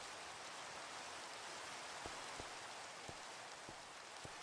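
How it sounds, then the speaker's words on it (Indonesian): Steady rain in the video game Minecraft, a dense hiss of falling water with a few soft drip ticks, continuous and even with no voices. "Hujan ini ganggu ya."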